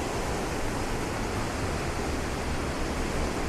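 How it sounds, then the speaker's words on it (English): A flooded river rushes after heavy rain, a steady, loud, broadband roar of moving water with no pauses and no voices. "the river looks quite a bit smaller than it used to."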